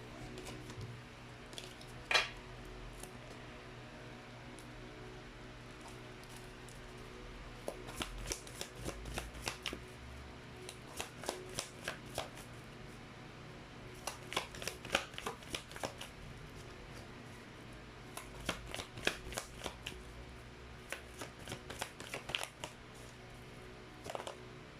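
Tarot cards shuffled by hand in repeated riffling bursts, crisp papery flutters coming in clusters with short pauses between, close and fairly quiet, with no talking.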